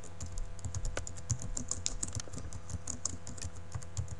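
A tour name being typed on a computer keyboard in Google Earth, producing rapid, continuous key clicks in a busy, uneven rhythm, close and clear, with nobody speaking.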